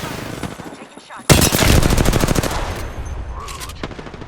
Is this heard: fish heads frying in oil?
no